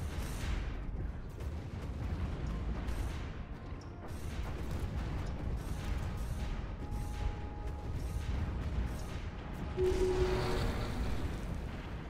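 Space battle in the strategy game Stellaris, with a continuous stream of rumbling explosions and booming weapon fire that rolls on steadily at moderate loudness for the whole stretch, with no voices over it.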